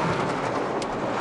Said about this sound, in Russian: И град лупит по машине.